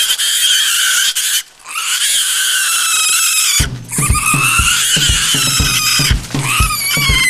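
A pig squeals loudly and close by, in long, harsh, high-pitched cries that run almost without a break. A deeper, rougher, pulsing squeal takes over partway through, with no talk.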